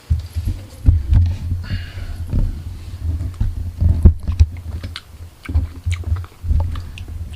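Someone chewing frozen stone mango chunks up close, with loud, repeated, uneven crunching and biting bites spread across the clip and no talking.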